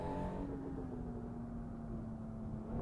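A Maserati Levante engine in Assetto Corsa on the Nordschleife, heard as a steady, moderately loud engine drone with a gently falling pitch throughout, without talk.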